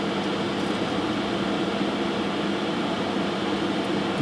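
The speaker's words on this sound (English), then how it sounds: "And it vacuum sucks the tape in, and you will hear whooshing noises" A DEC PDP-11/70 tape drive pulls tape in by vacuum around its spindles, making a steady airy whoosh and hum that runs evenly throughout at moderate volume with no voices.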